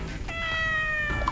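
A small cartoonish kitten in the Miitopia video game gives a single clear meow, alone over a quiet game background.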